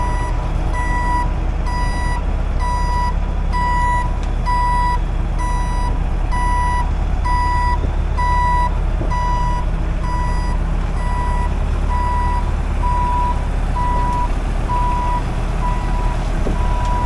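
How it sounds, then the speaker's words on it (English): A truck's backup alarm beeps steadily in a regular rhythm for the full stretch, loud and close, over a constant low engine rumble at an equipment auction yard. "Oh, even a working backup alarm?"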